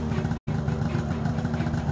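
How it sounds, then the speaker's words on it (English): A vehicle engine in the video game Antarctica 88 roars as a steady, throbbing low drone, broken by one very brief dropout before resuming at the same level. "You hear the roar of that engine?"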